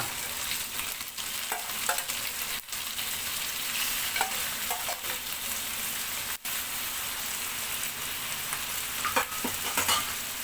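Shrimp frying in caramelized sugar in a pan, a loud, steady, close sizzle with continuous crackling and occasional stirring scrapes throughout.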